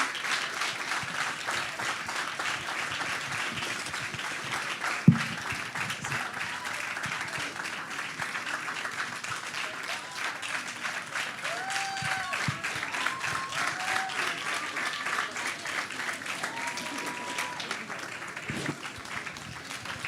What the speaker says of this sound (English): Please stand up and keep clapping.